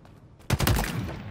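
A single sharp rifle shot in Halo Infinite, a headshot on an Elite, which breaks a quiet background and then rings out with a short decaying tail.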